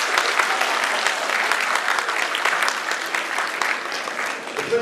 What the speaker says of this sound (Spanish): Un aplauso por favor, para la participación que hemos tenido